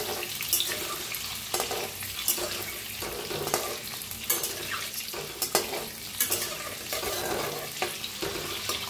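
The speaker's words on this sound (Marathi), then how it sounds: "अंडे कट करून घेतले ते तेलात सोडूया। आता अंडी जरा फिरवून घेऊया।" Cut eggs fry in hot oil in a pan with a steady, close sizzle, while a utensil turns them with repeated scraping clacks and stirring noises across the whole stretch.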